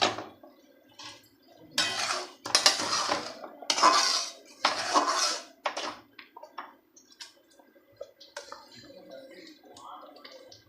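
A lidded metal cooking pot of simmering vegetable paneer gravy is opened: pot and lid clatter in a few sharp bursts, followed by lighter clinks and kitchen handling noises, close and fairly loud with no talking.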